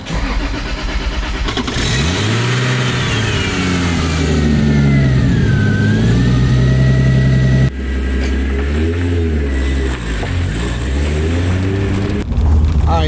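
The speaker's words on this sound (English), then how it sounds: "Let's take the car for a drive and see how it feels with no turbo." A 1000 hp Toyota Supra driven with its turbocharger removed revs up and down through several pulls, the engine note rising, dropping at gear changes and climbing again, loud and close with no talking.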